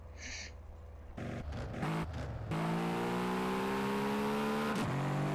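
A 2011 Mercedes-Benz CLS accelerating in a video game: after a few clunks and short bursts, the engine note rises steadily in a strong, continuous rev, loud and up close, with a brief dip near the end.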